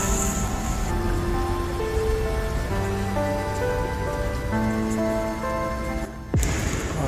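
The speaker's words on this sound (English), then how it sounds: "I don't like it when it's rainy and cold." Steady rain falls on a cold day in Hangzhou, China, a dense, even hiss that runs the whole way through, with tonal, music-like notes layered above it and a brief dip near the end.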